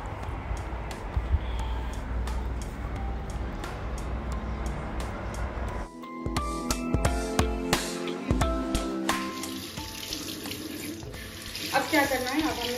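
Water runs from a tap into a sink, first as a steady close splashing flow, then changing to a more broken, clattering stream with small knocks and drips.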